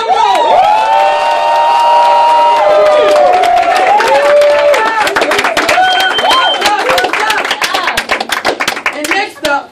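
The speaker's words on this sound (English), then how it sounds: "Let's give a round of applause." A Dallas business event crowd clapping and cheering loudly, with whoops and shouted voices over music at first, then rapid dense applause with sharp individual claps that grows choppier toward the end.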